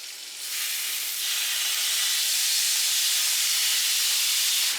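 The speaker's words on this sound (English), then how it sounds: "All right, let's get that steak in there, guys." A steak searing in a hot pan with onions and butter, giving a loud, steady sizzle that jumps up as the meat goes in and then holds as a close, continuous hiss.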